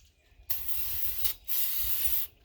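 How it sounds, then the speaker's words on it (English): Two hissing bursts of aerosol spray paint close by, coating a Mossberg Maverick 88 shotgun, each lasting under a second with a short pause between, no talking. "Spray it down one more time."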